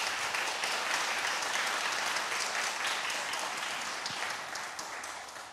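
Steady, dense audience applause fills a concert hall at the National Gugak Center's Umyeondang, honoring the organizer of a gasa academic seminar and performance, holding strong throughout before easing slightly toward the end.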